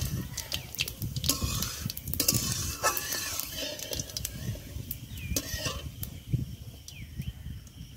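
Whole cumin seeds and dried red chillies frying in a pan for a Bengali fish dish, soft sizzle under scraping and stirring clinks of a utensil against the pan, fairly close and moderate.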